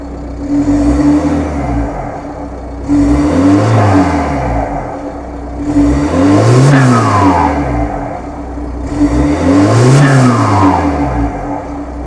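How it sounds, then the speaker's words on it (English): A car engine with a turbo and catalytic converter deleted revs four times in a steady cycle, each rise swelling into a loud throaty exhaust roar from the stock exhaust before dropping back to idle. "the exhaust has a pretty nice sound to it"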